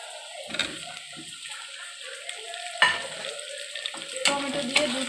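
Tomatoes go into browned onions frying in a pan for a Bengali chicken curry, bursts of sizzling and crackling with stirring scrapes, rising in short surges over a quieter hiss, close and without talk.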